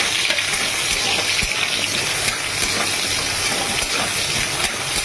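Potatoes frying in a pan of hot oil with whole spices and bay leaf: a steady, close, busy sizzle with faint scraping stirs and small crackles running evenly throughout, no voices.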